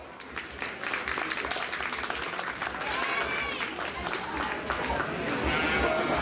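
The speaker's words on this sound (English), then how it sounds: "Let's go ahead and give them all a round of applause" A crowd claps in steady applause at a youth sheep show at the Lycoming County Fair, with scattered voices and a few calls mixed in.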